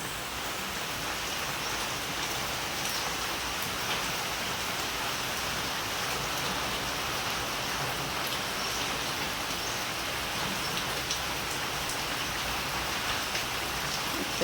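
Steady, even rainfall from a cyclone hissing over surfaces, constant and moderately loud with no voices.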